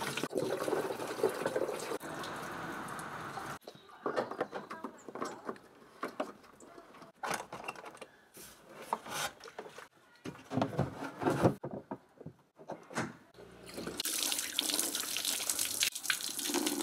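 Water running from the tap of a 20 l jerrycan held in a homemade canister mount, flowing in uneven gushes and trickles with pauses, close and fairly loud.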